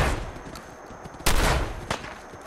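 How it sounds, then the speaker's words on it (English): A shotgun in the Fallout 4 video game, in the Far Harbor area, fires two loud booming blasts about half a second apart over a dense backdrop of game noise, with no talk. "Let's get this shotgun out"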